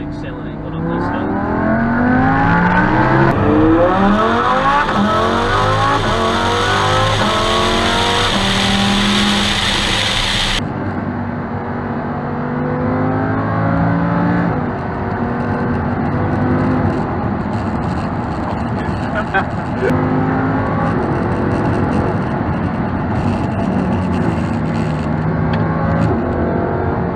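Lamborghini Huracan LP610-4 in Corsa mode accelerating hard uphill, its engine note rising steadily through the gears with loud, close rasping exhaust and short breaks at the upshifts, carrying on at full strength for the whole stretch.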